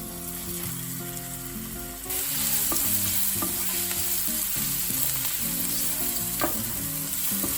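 Crushed ginger and garlic frying in hot oil in a pan, a loud, continuous close-up sizzle that grows stronger partway through, with occasional light stirring clicks.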